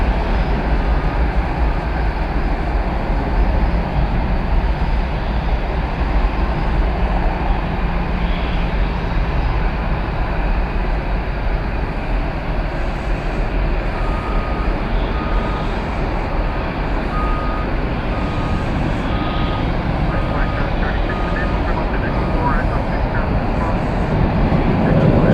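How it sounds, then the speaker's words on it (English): An American Airlines Airbus A321 jet arriving at Dallas Fort Worth airport passes with a loud, steady broadband engine roar that stays strong and continuous throughout, with no talk over it. "Coming in from Fort Myers, Florida. American Airlines Airbus A321,"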